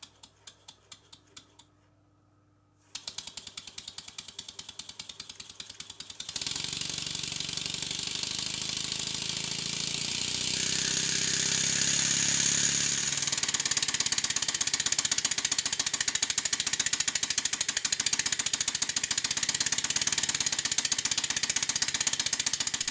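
A small Stuart model steam engine starts up after a few faint ticks and runs steadily with a rapid, fine mechanical chatter, growing louder and holding a constant rhythm.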